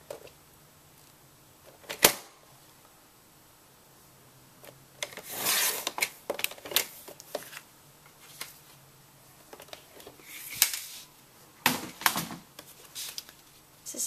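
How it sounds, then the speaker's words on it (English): A paper trimmer cuts cardstock for a handmade card, giving a series of sharp clicks and brief rasping slides that come close and sit against a quiet room. "I'm going to take our trimmer, and again we're going to put it on the two corners right here"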